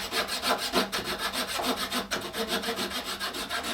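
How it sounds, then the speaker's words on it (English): A flush cut hand saw cuts a wooden plug flush with the stock, making rapid rhythmic rasping back-and-forth strokes, about six per second, close and steady. "you can use a flush cut saw and we will just cut this plug"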